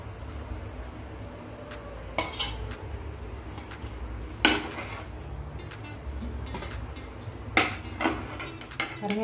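Steamed banana-leaf kozhukattai are set onto a plate, making a scattered series of sharp clinks and taps of utensil on dish over a quiet kitchen background.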